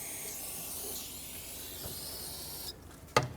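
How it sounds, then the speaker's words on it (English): Brake parts cleaner sprays from an aerosol can onto intake manifold parts during gasket replacement on a 2009-2019 Ford Flex, a steady close hiss that cuts off, followed by a faint sharp click. "I'm going to spray brake parts cleaner on all of them"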